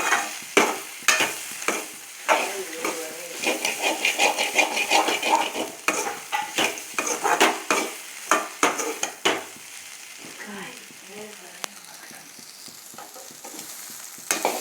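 Bitter gourd sautéing in oil in a pan, with a run of sharp, rhythmic spatula scrapes and taps over a light sizzle that thins out toward the end.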